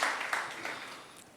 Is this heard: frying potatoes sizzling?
no